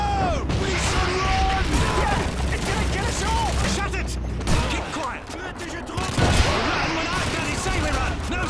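Tank cannon fire and battle noise from Call of Duty 2 form a dense, continuous wall of gunfire, blasts and crashing debris, loud throughout, with booming hits surging near the middle and end.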